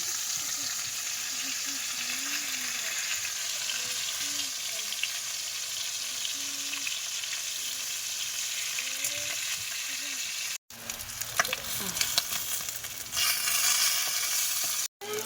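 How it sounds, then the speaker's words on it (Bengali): A large magur catfish fries in oil in a home kitchen pan, a steady loud sizzle throughout with brief stirring and scraping near the end, no talking. "এই যে দেখো মাছটা ভাজা হয়ে গেছে"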